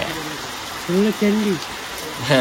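Steady rain falling outdoors, a soft continuous hiss of drops on surfaces, with a voice speaking briefly over it.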